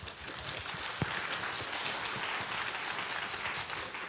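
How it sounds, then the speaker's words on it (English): Dense, steady applause from a conference audience at a smart cities summit fills the hall for several seconds, an even rain-like wash of many hands with one sharper clap near the start. "A round of applause for all of our panelists,"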